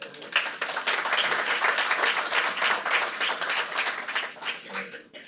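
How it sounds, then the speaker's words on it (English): A gala audience applauds the school district's Hall of Fame induction class, with loud, dense clapping that swells and holds through most of the stretch before easing off near the end. "Another round of applause for all of our induction class members"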